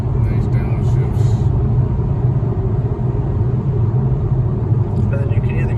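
Acura TLX Type S on a road drive gives a steady loud engine rumble with the low drone of a downshift, continuous throughout, while voices talk over it.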